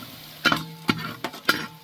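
Faint sizzles of curry leaves frying in a pan for chicken raja, while a few sharp stirring clacks punctuate it at irregular intervals.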